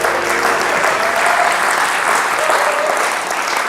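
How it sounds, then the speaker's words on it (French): Sustained audience applause at a political gathering in Cameroon, a dense, steady wash of clapping hands from a sizable crowd that holds evenly for several seconds with no break. "Quand les gens applaudissaient toujours"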